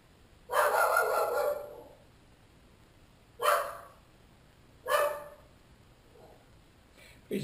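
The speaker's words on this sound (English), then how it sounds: "Please excuse my dog quit barking out there." A dog barks outside in three separate loud bursts, the first longer with several quick barks, then two short single barks a few seconds apart, with a quiet gap of background between them.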